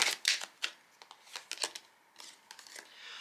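Tarot cards being shuffled and drawn, a close series of quick papery riffles and soft flicks with crisp snaps, irregular and fairly quiet.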